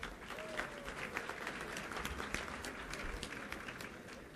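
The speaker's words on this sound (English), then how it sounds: "another round of applause for the Dearborn High School students." A school gymnasium crowd applauds Dearborn High School students with sustained, even clapping that fills the room at moderate distance, steady throughout with no pauses.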